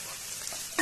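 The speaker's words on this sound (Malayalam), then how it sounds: "ഇനി ഇതിനെ നല്ലോണം സോട്ട് ചെയ്തെടുക്കുക." Coconut, ginger and garlic sautéing in a pan for a buffalo roast, a steady faint sizzle throughout with a brief louder stir or scrape near the end.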